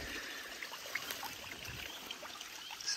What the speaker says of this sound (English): I found this stream of water, this spring.